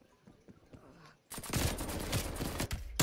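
Rapid bursts of nail gun fire in Call of Duty erupt suddenly after a quiet start, a loud dense rattle of shots continuing to the end with faint game noise beforehand.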